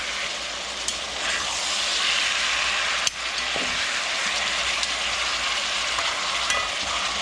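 Meat sizzles steadily in a hot pan as it is flipped, a continuous bright frying hiss with a brief clunk partway through.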